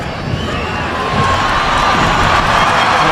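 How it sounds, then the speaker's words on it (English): Home crowd cheering at the Puerto Rico vs Spain football friendly in 2012, a broad steady stadium roar that swells slightly midway and stays loud and continuous. "Roared on by the home crowd."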